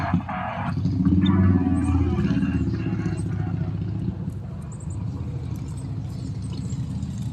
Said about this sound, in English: sounds like some people on some motorcycles are coming up next door